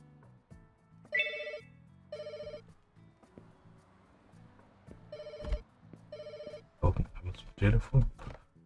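In the Pets Hotel video game, a telephone rings in four short electronic bursts under quiet background music. A voice speaks near the end.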